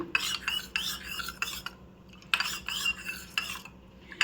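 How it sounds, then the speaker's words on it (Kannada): Custard powder being mixed with lukewarm water, heard as steady rhythmic scraping and rubbing of a spoon in a bowl, close up, in repeated bursts with a short pause, no voices. "ಸ್ವಲ್ಪ ನೀರನ್ನ ಆ್ಯಡ್ ಮಾಡಿ ಚೆನ್ನಾಗಿ ಮಿಕ್ಸ್ ಮಾಡ್ಕೊಳ್ಳಿ"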